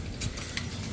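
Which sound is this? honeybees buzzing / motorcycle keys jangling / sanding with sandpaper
motorcycle keys jangling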